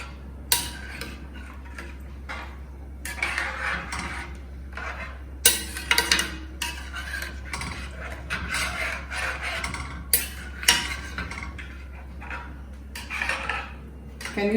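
Metal spoon scraping and clinking against a pot while paneer kadhi curry is stirred over a high flame. The irregular clatters and rubs repeat throughout over a steady low burner hum.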